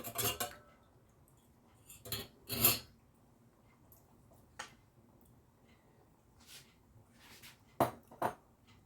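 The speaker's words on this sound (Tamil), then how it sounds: "அடிக்கடி கிளறி விட்டு கொண்டே இருக்க வேணும் கொஞ்சம் திக்கான கறியாக இருக்கிறபடியாக டப்பண்டு அடிப்பிடிக்க பார்க்கும்" Metal spoon scraping and clinking against a pot while thick chickpea curry is stirred, a few quiet scattered knocks and scrapes spread over a mostly quiet stretch.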